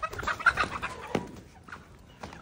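A hen gives a few short, nearby clucks in quick succession, followed by quieter scattered clucking.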